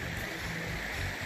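Spring Creek flowing along a hiking trail in the Black Hills, a steady broadband rush of moving water, close and continuous with no talk.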